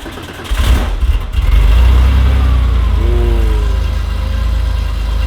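A 1967 pro-touring Camaro with an LS7 V8 cranks briefly, fires up with a loud burst and settles into a deep, rumbling idle close by, with short revs swelling over it.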